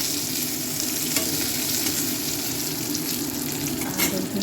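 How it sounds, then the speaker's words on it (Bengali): Pointed gourd (potol) frying in a pan gives a steady, close sizzle and crackle with occasional stirring scrapes, continuing without a break and with no talk. "এখানে পটল ভাজা চলছে"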